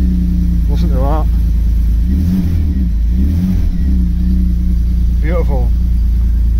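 A Vauxhall Senator CD 3.0 24V, parked for months and running poorly, idles with a deep steady rumble close by and revs up briefly a couple of times, while someone talks over it.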